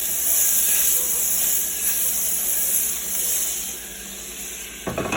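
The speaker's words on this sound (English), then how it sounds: "I'm heating up my pan right here. I'm going to add about 2 tablespoons of butter and just let that melt down in there." About two tablespoons of butter melting in a hot pan on the stove, a steady bright hiss and sizzle that keeps going throughout and ends in a brief clatter.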